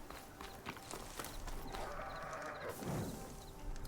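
A bighorn sheep bleats in the open world of Horizon Forbidden West, one fairly clear call rising out of rustling game ambience and light footsteps.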